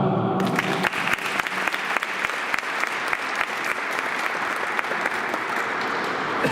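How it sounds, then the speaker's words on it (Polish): An indoor sports-hall audience at a volleyball tournament ceremony in Biała Podlaska breaks into sustained applause, with dense, steady clapping that carries on evenly throughout. "Proszę o brawo."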